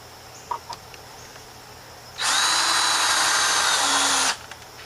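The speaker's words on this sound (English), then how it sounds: "see if I can do some screwing here" A power drill drives a screw into a rotted wooden picnic table, running as one loud, steady burst of about two seconds. Faint clucks and a few small knocks come before and after it.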